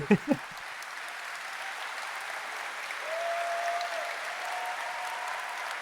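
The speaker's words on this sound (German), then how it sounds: "Applaus." Faint, distant applause from an audience at the Gamescom pre-show carries on steadily in the background after a couple of brief knocks at the start.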